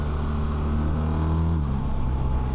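A 2026 BMW R 1300 RT motorcycle's two-cylinder boxer engine and exhaust drone steadily and loudly from close by, holding a low, throbbing hum with a slight pitch drop near the end.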